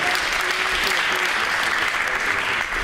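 Sustained audience applause at a CEO panel meeting as a panel member is called to the stage, dense even clapping throughout, with a faint voice briefly underneath.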